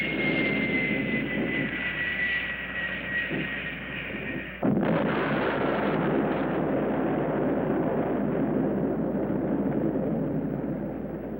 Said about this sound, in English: Only a nuclear bomb could cause a blast like that.